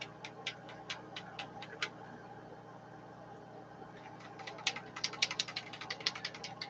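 A mixing ball rattles inside a spray can in quick bursts of sharp clicks, pausing briefly, then shaking again more vigorously.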